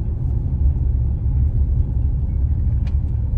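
A car engine rumbles low and steady from inside the moving vehicle, a continuous deep drone with road noise and one brief faint click near the end.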